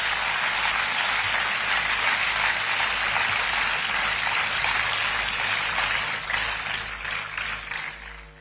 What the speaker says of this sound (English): a big round of applause for the awardees and their parents